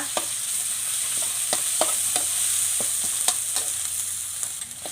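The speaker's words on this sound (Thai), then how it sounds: "ขั้นตอนแรกก็เอาพริกแกงเผ็ดลงไปผัดกับน้ำมันนะคะ" Red curry paste stir-fries in hot oil for a spicy duck dish, a steady close sizzle broken by regular scraping strokes of a spatula in the pan, with no talking.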